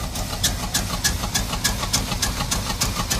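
A wrecked 1987 GMC 4x4 pickup idling roughly with a bad misfire, its engine loping in uneven, regularly spaced pulses, close and fairly loud, with no talking.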